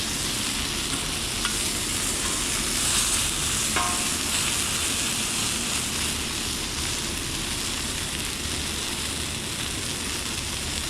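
Blackened salmon fillets sear in a hot pan, a loud, dense, unbroken sizzle and spatter with a brief clink partway through, close to the pan and free of talk.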